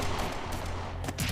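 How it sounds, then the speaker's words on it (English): Mechs fire triple Gatling guns in the Xenosaga Episode III video game, a dense, continuous roar of rapid gunfire that fills the short burst, loud and close with no voices. "mechs running about the walls with triple Gatling guns"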